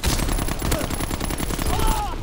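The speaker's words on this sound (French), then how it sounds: "Oh, ouais, c'est un fusil à pompe ça." Heavy gunfire in Call of Duty: WWII online multiplayer, loud rapid shots stacked into a dense barrage, with a player's voice faintly audible under the shooting.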